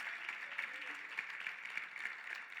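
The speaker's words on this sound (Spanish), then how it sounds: "Dele un fuerte aplauso al Señor." A church congregation claps together at a Spanish-language service, a faint, fairly distant wash of applause with a soft voice murmuring underneath.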